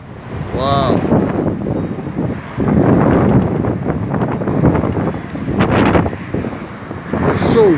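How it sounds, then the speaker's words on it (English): Strong wind gusts blowing outdoors on a street near a church, a steady loud roar buffeting the microphone throughout, with brief faint voices and passing noise mixed in. "It's so windy out here."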